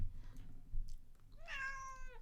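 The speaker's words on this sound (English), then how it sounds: "She said meow." A house cat lets out a single drawn-out meow, close and clear, after a short stretch of quiet room noise.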